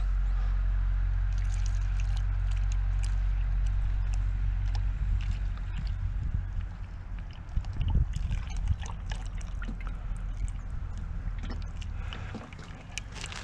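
Transmission oil from a Mustang Mach E drains into a 4-litre can, making a steady liquid trickle and pour over a low background rumble. It continues without speech.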